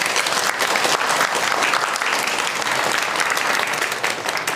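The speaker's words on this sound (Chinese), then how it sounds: "掌声欢迎一下。" Villagers gathered for a village committee election meeting break into loud, sustained applause to welcome a town party secretary, with steady, close, dense clapping from many hands that holds evenly throughout.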